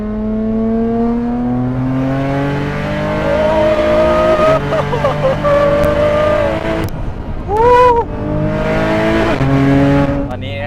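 A 1,600 hp Nissan GT-R accelerates hard, heard from inside the cabin: a loud engine roar climbs steadily in pitch, with several sharp gear changes and a brief squealing sweep near the end.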